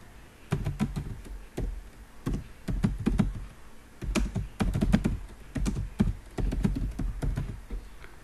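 Text is typed on a computer keyboard, and the close, clicky keystrokes come in uneven bursts and runs with short pauses between them.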